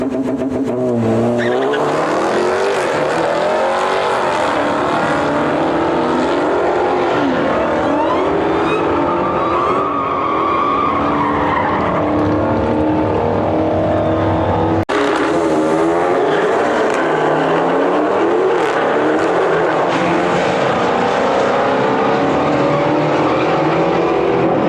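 A drag race between a Nissan GT-R and Volkswagen cars: loud, sustained engine roar with shifting revs and tire noise throughout, with a brief cut midway before the racing resumes.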